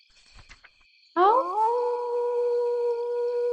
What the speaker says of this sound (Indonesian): dari kejauhan kembali terdengar lolongan serigala